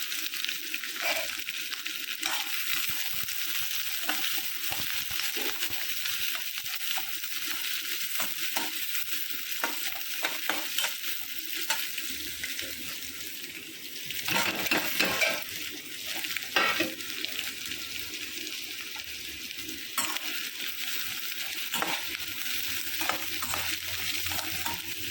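Onions with bay leaf and fennel sauté in a pan, a constant close sizzle broken by repeated spatula scrapes and stirring clatter, busier around the middle.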